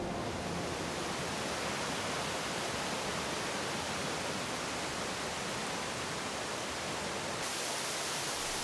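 Crabtree Falls in the forested Blue Ridge Mountains of Virginia, a waterfall roaring as a constant, dense rush of water, loud and unbroken throughout with no voices.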